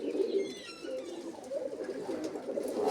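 Pigeons coo faintly at a distance, a soft continuous rolling murmur over quiet outdoor background in overcast weather, with no talking.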